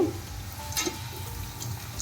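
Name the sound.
potato chips deep frying in oil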